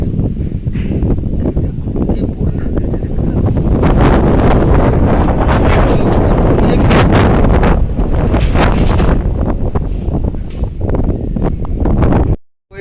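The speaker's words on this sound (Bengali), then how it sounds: "এই যে দেখো ঘূর্ণি ঝড়ের মতন ঝড়" Strong wind during a cyclone-like storm, roaring loud and continuous against the microphone with gusty buffeting for most of the time, cutting off abruptly at the end.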